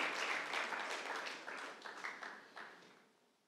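A church congregation at a Spanish-language service breaks into a burst of applause that holds steady briefly and then gradually dies away.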